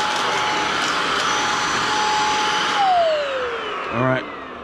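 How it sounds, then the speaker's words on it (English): Vacuum cleaner running loud and close with a steady whine that drops in pitch, then a brief rattle near the end as a screw is sucked up. "Ooh, I just sucked up a screw."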